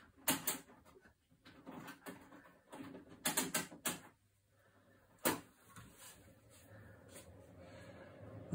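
A dehumidifier runs with a faint, steady low whir while a Beretta 693 shotgun dries in a gunsmith's workshop, after several close knocks and clunks of handling early on.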